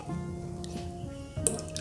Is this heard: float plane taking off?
no